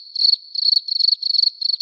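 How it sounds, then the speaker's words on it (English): Crickets chirp in steady, high-pitched trills, grouped into short bursts with brief gaps, fairly close and clear against otherwise silent surroundings. "The crickets' songs felt like lullabies."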